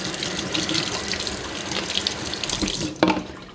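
Tap water runs steadily into a sink while a plastic plant pot is washed, a close continuous splashing stream with a brief clatter near the end.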